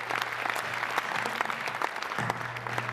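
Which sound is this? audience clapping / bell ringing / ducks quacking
audience clapping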